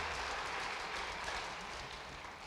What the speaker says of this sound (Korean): 처음 오신 세 가족을 큰 박수로 환영하시겠습니다.